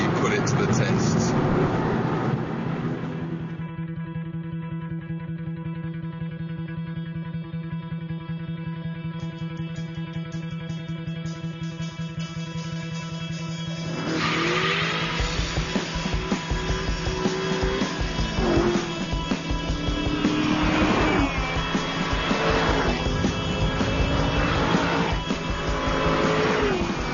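An Aston Martin V8 Roadster driven hard around a racetrack, its engine note roaring and rising through revs, with a steady tone midway before shifting and surging again, loud and close, with a voice talking over parts of it.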